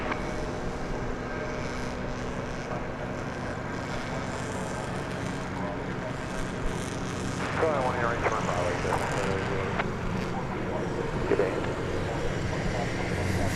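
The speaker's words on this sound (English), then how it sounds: "just now rolling down 18 left. An Airbus A321 on its way to the city adjacent to the bay," An Airbus A321 taking off on runway 18 left at DFW Airport, a steady distant jet engine roar with a faint whine rising partway through, heard under outdoor background noise.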